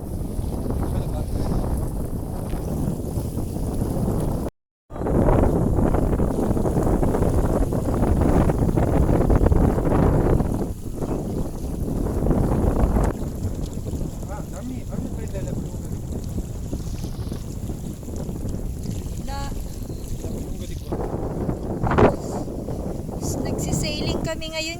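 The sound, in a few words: strong wind while sailing a boat at the beach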